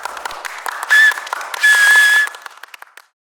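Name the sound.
audience applause, an ovation after a performance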